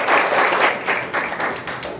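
A congregation at a Hindi church sermon claps hands in brief, moderately loud applause with scattered uneven claps.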